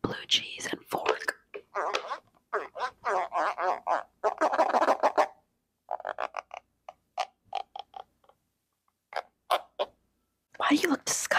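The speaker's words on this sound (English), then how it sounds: "This is the sound of blue cheese and fork." A fork is pressed into soft blue cheese right at the microphone during an ASMR eating session, making moist squishing bursts and sticky clicks in short irregular clusters separated by pauses.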